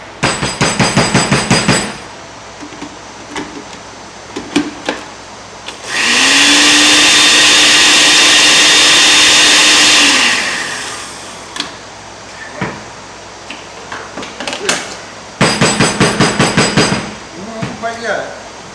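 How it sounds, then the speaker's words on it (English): A kitchen blender grinds bay leaves in one loud, steady whirring stretch of about four seconds, framed by clattering knocks and thuds of handling before and after. "Gotta make sure we get the bay leaves ground up."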